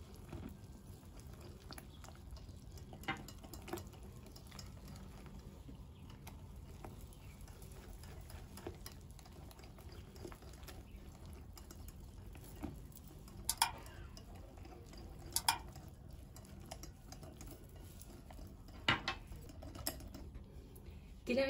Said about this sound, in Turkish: Dilerseniz benim yaptığım gibi çırpıcıyla topaklanmalar gidene kadar iyice çırpabilirsiniz